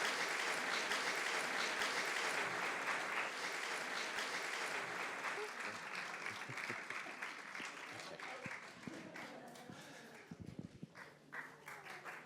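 Audience applause at an afternoon event with a guest speaker, clapping for a guest named Jake; a dense, steady roar of hands near and loud that thins and fades toward the end, with scattered voices underneath.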